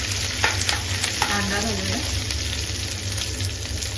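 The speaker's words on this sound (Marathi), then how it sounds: "कोथिंबीर लसूण सोनेरी रंगाचा लोसपर्यंत परतून घ्यायचं" Garlic, coriander and curry leaves sautéing in hot oil in a pan for kulthi pithla, a continuous close sizzle with light stirring scrapes, no talking.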